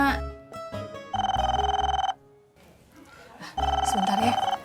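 A telephone rings in two loud, trilling bursts with a pause between, close and clear, while people talk in the background.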